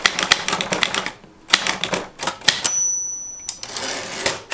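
Mechanical typewriter keys strike in quick irregular bursts with a brief pause and a bell-like ding, close and loud, typed on a machine fitted with a brand new ribbon.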